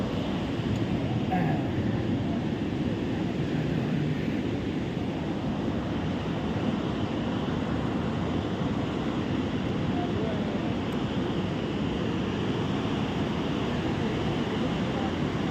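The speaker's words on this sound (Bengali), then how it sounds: "জল পড়ছে আমার দাদা।" Devi Falls in Nepal pours down in a continuous, loud broadband roar of falling water that stays steady and unbroken throughout, with no voices heard over it.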